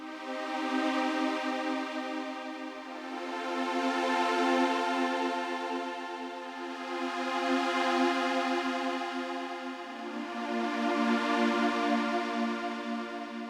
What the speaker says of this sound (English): Oscillator 3, we pick this shape that is called squish flange. That sounds like this.